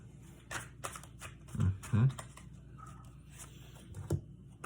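Tarot cards being handled while one card is picked, soft slides and a few sharper flicks and taps close up, heard under quiet talk.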